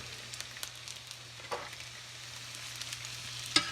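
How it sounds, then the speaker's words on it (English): Quiet, steady sizzling of a cheeseburger frying in a pan, a soft crackle throughout with a sharper tick near the end and a low electrical hum underneath. "this cheeseburger is just sizzling away back here"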